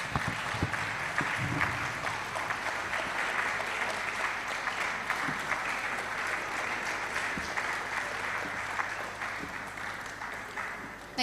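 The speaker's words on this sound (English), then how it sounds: "Round of applause again, please." Audience applause at a memorial lecture held by a conservation foundation, sustained dense clapping from a large crowd lasting over ten seconds and tapering slightly at the end, with faint voices mixed in.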